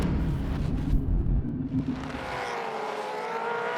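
A Supercars race car powers out of turn 2 at the Ipswich Super 440, a loud close engine roar that fades as it passes, leaving a distant ringing whine from the track.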